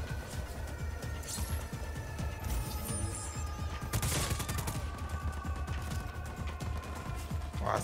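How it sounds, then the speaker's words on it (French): Dense, continuous enemy gunfire rattles through a firefight in the open-world game Just Cause 4, with rapid bursts and scattered crashes blending into one steady barrage and no speech over it. "Ouah, ça tire même de là-haut."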